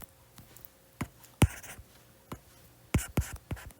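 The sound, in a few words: writing on a board while solving a physics problem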